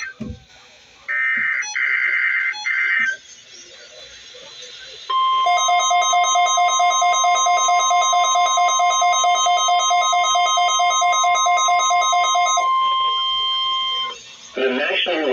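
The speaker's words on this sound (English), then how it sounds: "The National Weather Service in Wichita has just activated the warning alarm tone on weather radio station WXK92, KEC 59, WWH22" A National Weather Service weather radio warning alarm tone from station KEC 59 in Wichita, Kansas, a loud, steady, continuous electronic tone lasting several seconds, preceded by a short data burst and followed by a fade into announcement audio.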